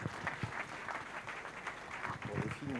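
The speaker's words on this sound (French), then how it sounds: "Je vous demande de l'applaudir." Audience applause at a New Year's greetings ceremony for local councillors, a steady broadband patter of clapping throughout with voices talking over it.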